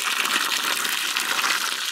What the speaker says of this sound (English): And plus give it some nice fresh water.